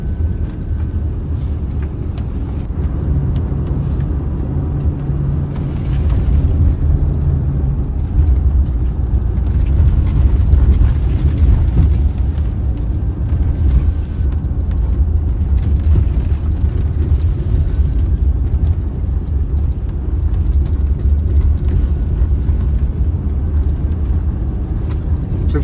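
A Toyota Prado 120 series SUV drives along a road in Nairobi on a Sunday morning, its engine and road rumble a steady, close, continuous drone throughout with no talk.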